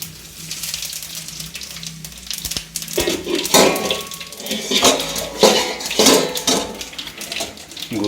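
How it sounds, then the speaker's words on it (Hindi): Dal being tempered with cumin in a pot at an outdoor bhandara kitchen serving food offerings, giving a loud continuous sizzling hiss with clattering of metal utensils throughout. "दाल में तड़का लगा रहे हैं।"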